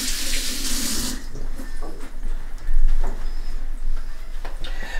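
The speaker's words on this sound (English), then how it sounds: "I gotta wash because my hands got bologna and mustard all over them." Water from a tap splashing into a sink as hands are washed, a loud steady hiss at first, then softer rinsing and scrubbing splashes with a few knocks, close by and without speech.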